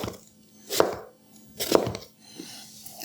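A knife slices through vegetables on a cutting board, removing the seeds, while cooking peanut chicken with rice: two distinct chopping thunks about a second apart, then a softer third cut, close and clear with no talking.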